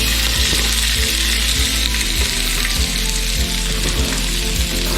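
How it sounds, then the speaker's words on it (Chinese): Apple pieces sizzle and fry steadily in a little oil in a pan, with a loud, continuous crackle and faint rhythmic scraping throughout. "然后接下来我们就炒我们的苹果还有那个橄榄，就稍微加一点点油"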